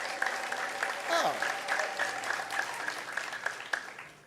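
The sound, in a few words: congregation applauding in church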